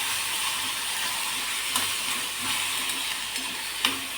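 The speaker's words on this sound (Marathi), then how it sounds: "आता यात आपण टोमॅटो टाकून नरम करून घेणार आहोत" Chopped tomatoes fry with softened onions in a hot pan, giving a steady close sizzle and hiss broken by occasional scraping stirs of the spoon.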